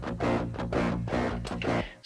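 Overdriven DI electric guitar through a tube screamer pedal, a heavy tone playing repeated chugging chords in a steady rhythm, loud and close with no talking.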